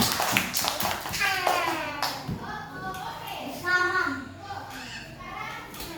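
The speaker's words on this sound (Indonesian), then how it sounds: "Ini tepuk tangan dong teman-teman." Children clap their hands in a brief scattered burst while a young voice talks over it.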